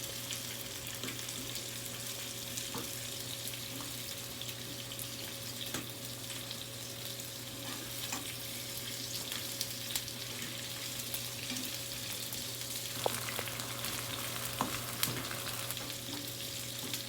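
Onions, peppers and tomatoes sauté in a hot pan for Jamaican tin bum, giving a steady, close sizzle with soft stirring scrapes and occasional louder pops, with a constant low hum underneath.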